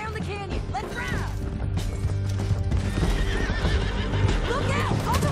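Horses gallop with steady clip-clop hoofbeats and repeated loud whinnies during a canyon ride in Red Dead Redemption 2, a western video game, over a dense game soundscape with bursts of voices.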